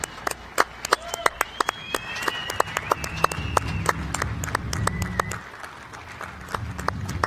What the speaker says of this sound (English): please give a warm round of applause to our athletes